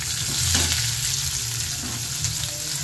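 Chopped onions frying in hot oil in a pan while being stirred, for a Tamil wedding-style vatha kuzhambu: a steady loud sizzle throughout, with soft scraping from the stirring and no talk.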